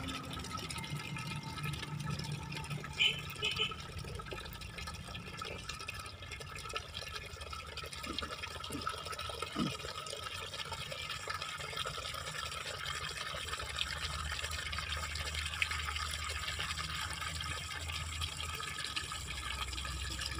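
Water pours steadily from the tap of a coin-operated water vending machine into a container in a continuous, fairly quiet stream with faint drips and background noise.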